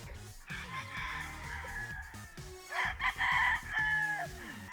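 A sweater gamefowl rooster crows and clucks close by, with several rising calls and a strong crow near the middle, with more bird sounds around it.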